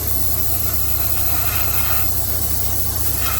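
Airbrush spraying paint onto the roof of a Parkside model van kit, a steady, close hiss that runs unbroken and alone throughout.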